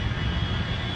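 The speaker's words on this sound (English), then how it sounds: "American Flight 1 is arriving in Los Angeles" An American Airlines airliner comes in to land at Los Angeles, its engines giving a loud, continuous roar with a steady high whine held throughout.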